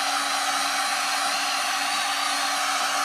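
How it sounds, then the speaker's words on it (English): A Black & Decker heat gun blowing steadily, a loud constant airy whoosh with a faint motor whine, close and alone throughout. "the Black & Decker heat gun and the torch paste are already there"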